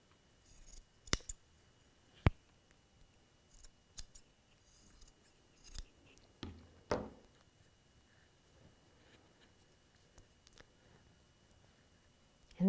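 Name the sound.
scissors cutting excess fabric off a quilt block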